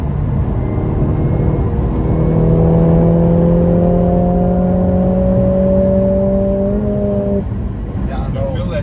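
Mercedes-Benz A45 S hot hatch engine pulling hard through its first gears on a bumpy road, a loud rising engine note that climbs, then cuts off at a shift, with someone talking over it from inside the car.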